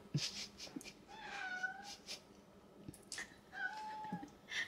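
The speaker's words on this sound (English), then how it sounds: "if you want to enjoy her meowing" Olivia the cat meowing repeatedly in a kitchen, several drawn-out mews spread across a noisy, moderately quiet background, with no one speaking.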